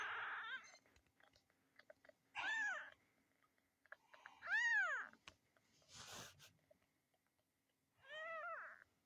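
A young only kitten meows several times in separate rising-falling cries, close and fairly quiet, with soft chewing or shuffling noises between calls.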